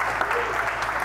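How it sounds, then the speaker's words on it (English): Audience at a bass fishing tournament weigh-in gives a short burst of steady applause, a dense crackle of many hands under light talk. "A round of applause, ladies and gentlemen."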